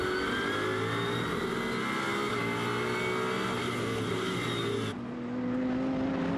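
A Ginetta GT4 race car drives around the Brands Hatch circuit during a British GT race, its engine roaring loud and steady close by, then the pitch drops abruptly as it passes and the engine note changes.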